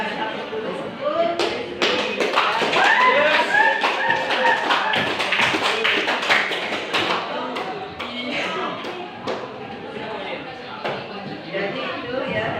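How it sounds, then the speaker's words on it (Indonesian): Audience at a formal gathering clapping, a steady dense patter of many hands held over several seconds, loud and close, with chatter underneath. "Silakan kita kasih aplaus dulu sebut."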